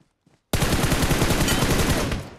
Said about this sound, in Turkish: Aa pompalı.